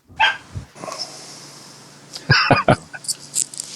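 A dog barks several times close by, short sharp yaps in a quick cluster near the end after a couple of earlier yips.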